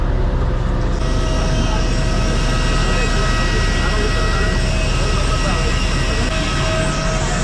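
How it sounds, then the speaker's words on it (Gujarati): A steady, loud airplane engine drone fills the whole stretch, close and unbroken, with no pauses or changes in pitch. "આ જે અવાજ આવે છે એન્જિનનો અવાજ આવે છે"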